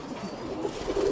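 Roller pigeons in a hen loft with a sun pen give a low, steady cooing that runs continuously, close and fairly loud, with no talking.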